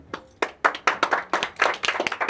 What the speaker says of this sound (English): big hand for Scott